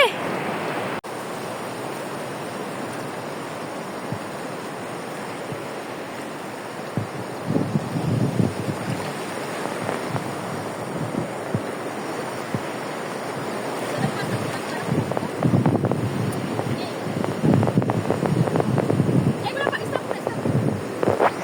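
Big sea waves surging and rolling onto a beach, with wind buffeting the microphone, growing louder and rougher toward the end while someone talks over the surf.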